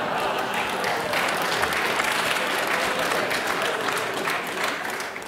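Steady, dense applause from a large forum audience, loud and sustained throughout with no pauses.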